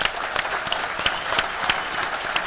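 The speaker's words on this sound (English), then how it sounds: "Another big round of applause for our panel." A live conference audience breaks into loud, sustained applause for a panel, dense rapid clapping that fills the room with no voices over it.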